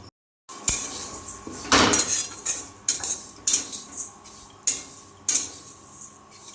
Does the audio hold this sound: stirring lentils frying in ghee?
yes